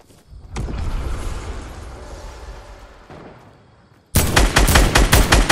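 Bursts of Fortnite gunfire: a sustained rumbling volley fades out, then after a short gap a loud, rapid series of sharp gunshots cracks out close up.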